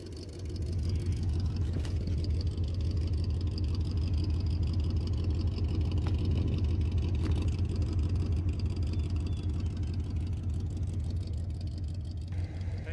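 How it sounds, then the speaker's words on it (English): A carbureted truck engine idles steadily with a deep, low, continuous rumble, close and fairly loud, showing a slight fluctuation in its note but no revving for the whole stretch. "it sounds like our truck has started to make a different idle note here"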